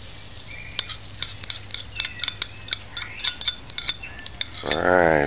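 Whisked eggs poured into a heating pot of melted butter for American-style scrambled eggs, with sharp utensil clinks against the pot over a low hum, then a louder burst of sizzling rush at the end.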